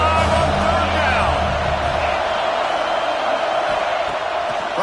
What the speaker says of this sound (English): Hang on, Swoopy, the Buckeye crowd alive on 3rd down